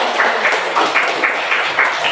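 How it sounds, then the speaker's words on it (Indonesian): A classroom of students claps together in a lively, evenly pulsing round of applause that stays loud throughout with no talking. "Kita kasih tepuk tangan dulu."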